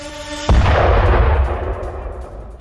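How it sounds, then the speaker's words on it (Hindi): A sudden loud explosion hits a city after a drone attack in the Russia-Ukraine war, its deep blast rolling into a long, fading rumble. "ड्रोन अटैक के बाद जोरदार धमाका होता है और धमाके की आवाज भी सुनी जा सकती है।"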